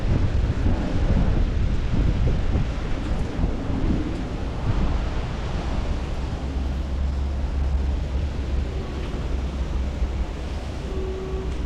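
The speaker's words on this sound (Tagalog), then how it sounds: "Hindi talaga tumigil yung ulan, no?" Steady heavy rain in New Zealand at a roadside bus stop, with a deep, continuous low rumble beneath it like thunder, lasting the whole time without any voices.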